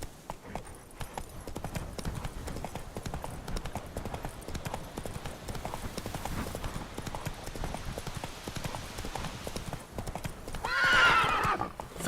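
The horse Roach galloping in The Witcher 3, rapid rhythmic hoofbeats pounding close and steady throughout, ending in a loud neigh near the end over a light game ambience.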